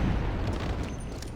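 A red crate blowing up after being shot in Red Dead Redemption, one deep booming explosion with a rumbling low-end tail that fades over about a second.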